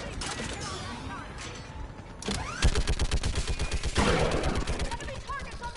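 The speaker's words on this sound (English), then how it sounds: "Get on that gun and do some damage!" A mounted gun in Mass Effect 3 fires a fast, rhythmic stream of heavy, close shots, with a lighter run of gunfire and battle noise before it and voices calling out around it.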